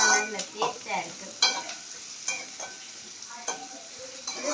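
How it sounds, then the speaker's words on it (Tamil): Onions sautéing in oil for a Jaffna-style egg curry, with repeated spoon stirs and scrapes over a soft sizzle, close and clear with no talking. "இது வந்து நல்லா வதங்கி வர வேணும். எண்ணெயில நல்லா வதங்கி வரட்டும்."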